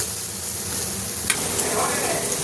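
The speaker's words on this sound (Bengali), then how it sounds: "শুধু নাড়াচাড়া করে একটু মাখা মাখা হবে।" Fish jhal ingredients sizzle in a hot pan while being stirred and mixed, a steady frying hiss with a couple of brief scraping clinks of the spatula.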